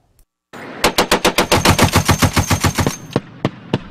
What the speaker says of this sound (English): firing live ammunition at pop-up targets at the Orchard Combat Training Center near Gowan Airfield